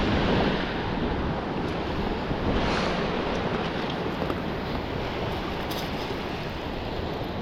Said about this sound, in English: That wind right in your face, though, that's vicious.